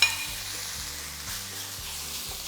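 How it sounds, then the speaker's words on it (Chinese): Beef short ribs sear in a hot pan among garlic, scallion and ginger already browned in their own fat, giving a loud, steady sizzle with a few soft scraping stirs and no voices. "牛肋條這個時候下去，中間稍微挖一個洞"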